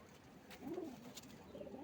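Domestic pigeons kept at home coo softly in a low, rolling murmur, with a faint throaty call rising midway through against quiet background noise.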